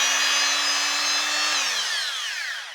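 A Bosch GWS 850 CE angle grinder runs at high, steady speed with a loud motor whine, then is switched off and winds down with a falling pitch toward the end.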